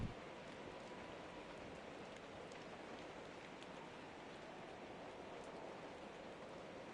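Rain falls at night in the video game The Bard's Tale, a steady, even hiss of dense rainfall that stays constant and faint throughout with no talking.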